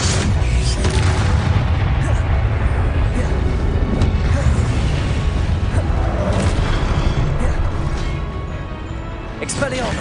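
Confringo blasting spell explosions in the video game Hogwarts Legacy, repeated booming blasts in a loud, continuous battle din, with a voice calling out spell names over the noise.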